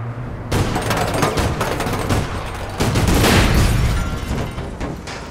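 Shotgun fire in the online shooter game APB Reloaded, a loud dense volley of blasts and booming reports rolling almost continuously for several seconds, heard close and without any talking.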